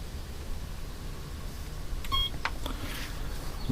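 A wireless Power Pole pump mounted near a boat's bilge gives one short electronic beep as its program button is held, with faint background hum around it.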